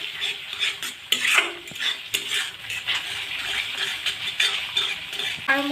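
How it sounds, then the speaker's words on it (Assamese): Cumin powder being stirred into a drumstick curry in a pan, soft repeated scraping and clinking of a spoon against metal with faint sizzling, close and fairly quiet, no talk. "ইয়াতে মই এতিয়া অকণমান জিৰা গুড়ি দিছোঁ। আৰু এয়া লৰাই আছোঁ।"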